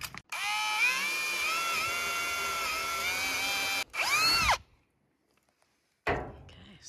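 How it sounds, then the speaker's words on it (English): A power drill pre-drills screw holes in metal on a homestead build, running in a long steady whine, then a shorter burst that winds down, then another brief start after a pause. "so we pre-drill them where the screws are going to go"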